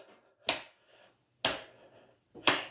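Three sharp hand claps during a line dance lesson to a song, evenly spaced about a second apart, close and crisp with silence between.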